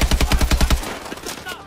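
Automatic gunfire hitting walls in the video game Call of Duty: Advanced Warfare, a rapid burst of about eight close, loud shots followed by a short ringing decay.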